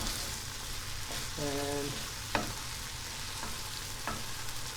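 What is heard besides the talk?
mushroom ragu simmering and being stirred in a pan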